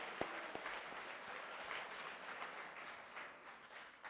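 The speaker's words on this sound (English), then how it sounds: "Let's give a big round of applause for them." Audience at a school assembly applauds the pep band: sustained, fairly close clapping from a room full of people, even and continuous for a few seconds, with a couple of sharper knocks near the start.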